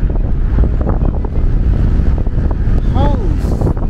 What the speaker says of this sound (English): That's just the wind, guys. That's how bad the wind is right now.